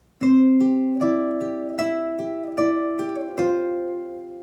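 Two ukulele parts layered together, a strummed chord pattern under a plucked melody, bright and close, about eight strokes before the notes ring out.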